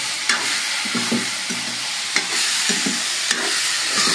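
Tomatoes fry in a pan while a spoon stirs them, giving a steady sizzle with soft, repeated scraping strokes close by.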